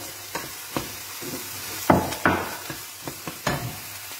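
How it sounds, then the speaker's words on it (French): Diced bell peppers sizzle in a hot pan with onion and garlic, a steady close frying hiss broken by repeated scraping strokes and sharper clatters as a utensil stirs them around. "je commence par verser mes poivrons qui vont prendre un petit peu plus de temps à cuire"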